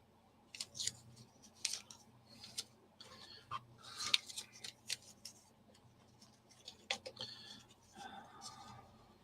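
Scissors snip repeatedly in quick, uneven bursts, close but quiet, with faint rustling between cuts.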